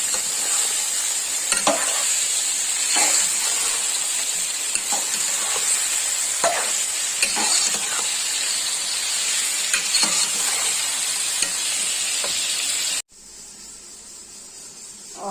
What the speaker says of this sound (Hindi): और साथ ही इसके हरी मिर्चें शामिल कर दी और ये इसके साथ ही फ्राई होती जाएंगे